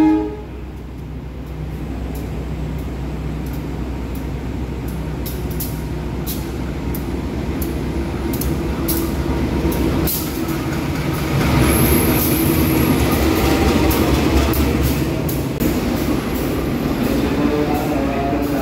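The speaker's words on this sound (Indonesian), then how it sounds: "Kereta Lodaya silang," The Lodaya passenger train rumbles steadily past at a station while crossing another train, a loud, continuous clatter of wheels on rails that swells midway, with faint squeals above.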